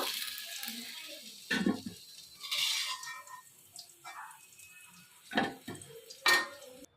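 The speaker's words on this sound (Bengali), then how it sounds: "এবারে আমি একটা পাত্রের মধ্যে আলুগুলো তুলে নেবো" Fried potatoes scooped from a pan into a bowl, with a few separate metallic scrapes and clinks of a spatula against the cookware and a faint sizzle of oil in between.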